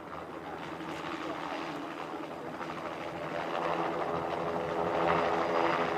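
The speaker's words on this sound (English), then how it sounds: "They're going to exit this helicopter, so looking forward to seeing this." Steady whirring roar of a helicopter overhead at an airfield airshow, growing slightly louder, with no talking.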